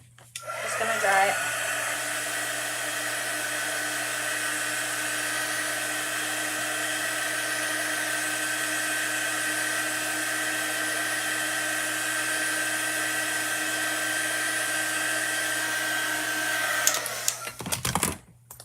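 Hair dryer blowing steadily to dry chalk paste on a spooky trick-or-treat stencil, a loud continuous whir held close for about seventeen seconds before clicking off and rattling briefly at the end.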